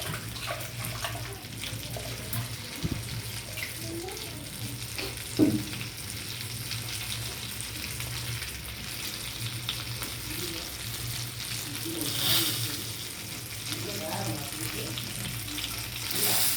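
Low, steady sizzle of stuffed brinjal frying in a pan, with occasional scraping and clinking as it is stirred.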